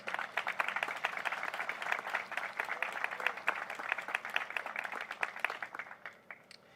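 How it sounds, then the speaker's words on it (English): Sustained applause from an audience at a school district event, steady and fairly even, with dense clapping that continues for several seconds before thinning slightly near the end. "Huge round of applause, guys."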